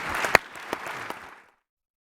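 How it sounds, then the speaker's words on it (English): Brief applause from a conference audience for the speakers at a war-studies event. It fades out after about a second and a half, with a few sharp individual claps standing out, and ends in silence. "would you join me in applauding these wonderful speakers?"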